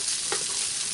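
A one-skillet breakfast is stirred in a hot cast iron skillet, with a brief close scrape over a dense, steady sizzle of frying food and no talking.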